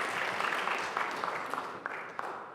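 An audience applauds at a civil rights anniversary celebration, with soft, steady clapping that is heard from a distance and fades a little over a couple of seconds.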